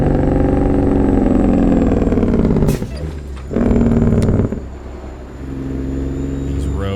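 Heavy truck engine in American Truck Simulator, hauling a Volvo excavator at night, a loud continuous diesel drone that dips briefly during gear changes and then builds again.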